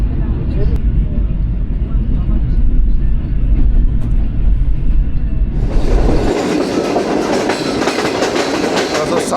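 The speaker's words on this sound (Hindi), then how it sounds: "अभी ट्रेन हमारी गुजर रही है बुचेरी रेलवे स्टेशन से" The Pak Business Express rolls past Bucheri railway station, wheels clattering loudly on the rails with a steady rumble that swells into a louder, brighter rush partway through, heard from on board.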